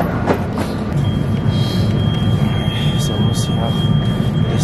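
Rumbling rail noise at a Denver train station, with a loud, continuous, broadband roar and occasional higher squeals, heard up close with no talking.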